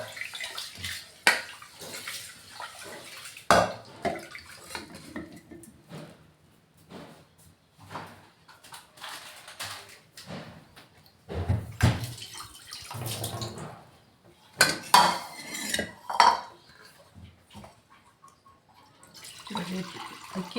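Rice is rinsed in water for a second wash, saving the rice water for tamarind sambar. Intermittent close splashes and sloshes come in uneven bursts, with pauses of quieter handling between them.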